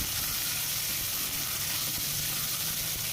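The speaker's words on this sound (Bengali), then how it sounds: "তেল ভালো করে গরম করে এখন আমরা চিকেনটাকে ফ্রাই করে নেব।" Thinly sliced small chicken pieces frying in hot refined oil in a wok over a medium flame, a steady, close sizzle and hiss with no talking.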